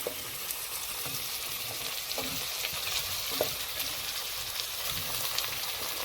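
Beef searing in a very hot pot for a beef stew, a loud continuous sizzle and crackle with faint scattered clinks, steady throughout and close by.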